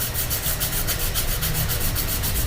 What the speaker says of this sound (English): we're also going to be resanding these with probably going up through the grits into 220